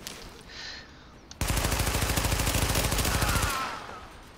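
A sustained burst of rapid automatic gunfire in Tom Clancy's The Division, starting abruptly after a quieter lead-in, loud and evenly rhythmic for about two seconds before cutting off.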